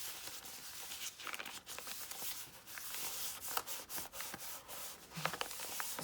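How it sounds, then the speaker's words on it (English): Fingers steadily rub a freshly glued paper flap in an old journal, making a soft, quiet, scratchy friction sound with small crinkles and no talking. "Just give that a good rub, make sure it's glued"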